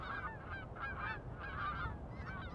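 Lesser snow geese honk repeatedly in a busy flock chorus, their nasal calls overlapping at a moderate distance.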